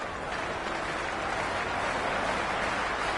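Steady stadium crowd roar with applause in a Cricket 26 match between LSG and DC, a dense, continuous wash of noise holding at a constant level throughout, with no distinct voices standing out.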